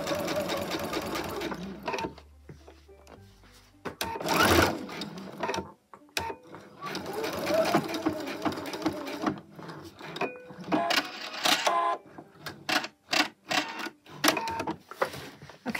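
Sewing machine running a second row of stitching on pants being turned into a skirt, close and loud, in several bursts of rapid whirring with brief pauses and clicks between runs.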